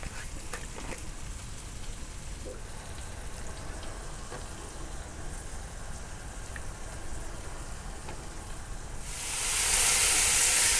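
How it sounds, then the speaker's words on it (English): Bacon dropped into a second hot pan beside burgers: a quiet kitchen background gives way near the end to a sudden loud, steady sizzling hiss. "quickly fry the bacon"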